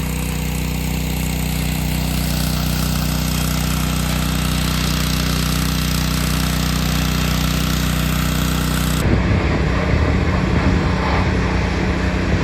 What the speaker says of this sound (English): Got her up in the bucket loader so we can reach the top.